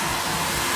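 A hair dryer blows a steady, loud, broadband rush at close range while long layered bob hair is dried, with no talk over it.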